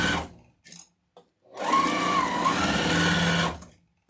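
A sewing machine stitches straight across small fabric tabs for a sewn Valentine's wreath attachment: a few brief taps and stops, then a loud, steady whirring run of about two seconds, close by and with no talking.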